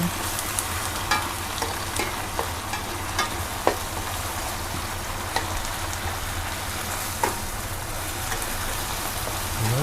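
Tofu and shiitake mushrooms with holy basil stir-fry in a hot pan for a vegetarian dish, giving a steady sizzle with scattered crackles and spatula scrapes and no talking.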